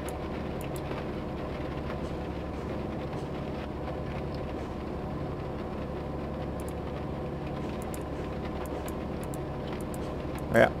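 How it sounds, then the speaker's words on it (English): A train rolling along in the video game Train Mechanic 2017, with a steady low rumble and rhythmic rail clatter holding an even pace throughout and a brief knock near the end. "Keep the train on tracks, keep you from derailing."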